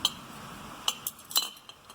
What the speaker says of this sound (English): These little butter knives.